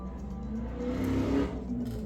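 A car engine revs outside at a short distance, a muffled, rising and falling drone lasting a couple of seconds.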